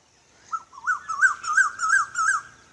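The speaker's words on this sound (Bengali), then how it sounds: "কোকিল ডাকছে" An Asian koel calls nearby, a clear repeated series of rising, whistled notes, five or six in quick succession, loud and close against a quiet background.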